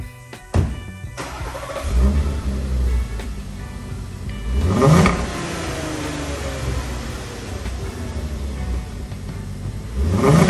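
A VW Atlas 3.6L VR6 engine with its resonator removed revs up in a few sharp bursts, a loud throaty roar rising and falling with a steady idle rumble between pulls.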